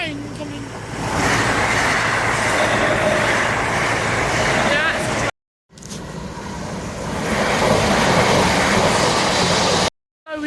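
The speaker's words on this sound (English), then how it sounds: "Look, when's the train coming?" A train rumbles past near a river on an outdoor bike ride, a loud, close, continuous roar with rattling that swells and holds, broken by two brief cuts, with people talking over it.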